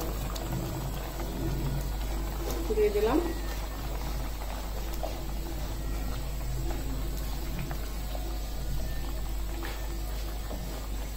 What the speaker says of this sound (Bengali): এখন ঝোলটা ফুটে উঠছে